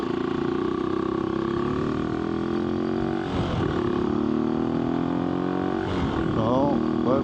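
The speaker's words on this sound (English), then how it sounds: "I love the sound of the motorbike." AJP PR7 motorcycle engine droning steadily while riding on a windy day, with shifting harmonic tones and brief revs, wind noise mixed through the continuous ride sound.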